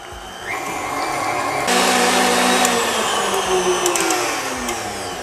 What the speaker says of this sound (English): And this is 8 ounces of cream cheese. We're gonna beat that until fully combined.